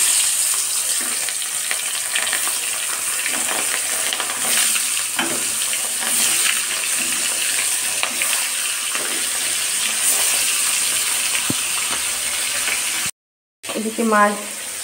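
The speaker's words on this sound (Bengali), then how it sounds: "অলরেডি তেল গরমও হয়ে গিয়েছে। এবার মাছগুলো এক করে দিয়ে দেবো।" Fish sizzles steadily in hot oil with a loud continuous hiss and occasional stirring, briefly cutting out near the end before a voice is heard.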